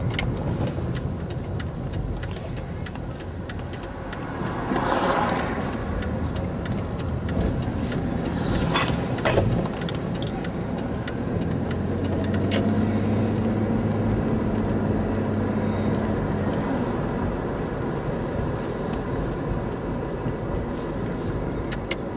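A car passing on a road heard from inside another vehicle, a steady low road and engine rumble throughout with a faint swell partway through, no talking.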